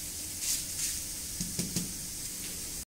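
Garlic sizzles steadily in a hot pan for a Kannada garlic chutney powder, a constant bright hiss with a few soft stirring scrapes and taps, close and alone.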